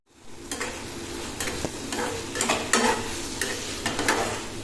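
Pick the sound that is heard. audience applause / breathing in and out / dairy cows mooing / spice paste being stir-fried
spice paste being stir-fried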